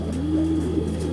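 Loft pigeons kept by an Egyptian pigeon fancier give a soft, low, drawn-out coo close by over a steady background hum, with no one speaking.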